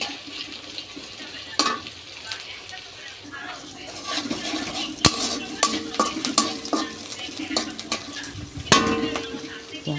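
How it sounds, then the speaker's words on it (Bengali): Chopped onion, garlic and green chili fry in a pan with an uneven sizzle, broken by frequent clattering stirs and scrapes of a spatula, close and moderately loud. "সামান্য একটু লাল করে ভেজে নেব।"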